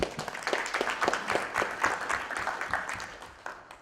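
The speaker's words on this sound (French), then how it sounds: "On m'applaudit." An audience at a community presentation gives a short round of applause, dense clapping that carries on evenly before tapering off.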